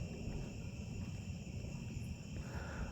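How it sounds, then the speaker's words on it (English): Cicadas and other insects outdoors on a summer evening in the eastern region, a steady, faint, layered buzzing and chirping drone that continues without a break, with no voices. "I don't know if you hear all the bugs out here, cicadas, whatever the fuck they are."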